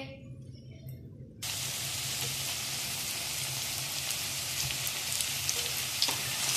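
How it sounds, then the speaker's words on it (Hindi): Potato balls being fried a second time in hot oil until crisp give a loud, dense, rain-like crackle that starts abruptly and holds steady to the end. "अब हम इनको एक्स्ट्रा क्रिस्पी करने के लिए दोबारा से फ्राई करेंगे।"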